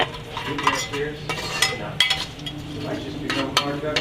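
Onions browning in a pan are stirred with a utensil, giving repeated scraping clinks over a steady sizzle, close and moderately loud.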